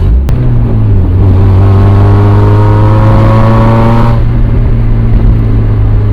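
A 1996 Mazda Miata's inline-four engine revs high and loud close by, its pitch climbing steadily for about four seconds before dropping back to a steady drone.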